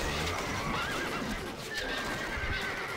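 A horse neighs in the medieval strategy video game Stronghold: Crusader Extreme, giving a clear, drawn-out whinny over a steady, dense background of game ambience and faint hoof clatter.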